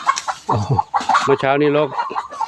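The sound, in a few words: chicken clucking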